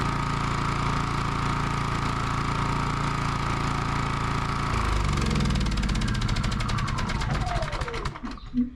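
Harbor Freight portable generator engine running steadily close by, a loud droning putter that shifts pitch midway and winds down with a falling whine near the end.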